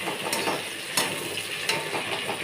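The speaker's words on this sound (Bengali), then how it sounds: "এখানে সিম তরকারির জন্য আলু ভেজে নিচ্ছি" Potatoes fry in a pan for a bean curry with a continuous close sizzle, broken by a few short scraping stirs, and no talk.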